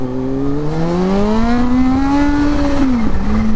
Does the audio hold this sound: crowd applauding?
no